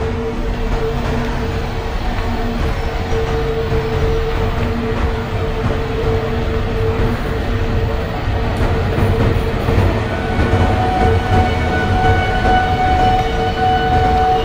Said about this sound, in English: Another one train is coming on the opposite track.